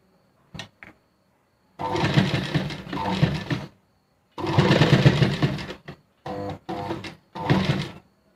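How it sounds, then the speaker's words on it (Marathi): A sewing machine runs a press stitch along the very edge of a blouse neckline: short bursts of loud, close mechanical whirring, starting and stopping several times with pauses and a few clicks between, no talk. "आता एकदम कडेला प्रेस टिप मी मारते आहे।"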